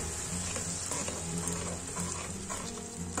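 Tomato pulp cooks in a pan for Punjabi chole, a steady close sizzle and frying hiss with faint stirring, continuous and even throughout.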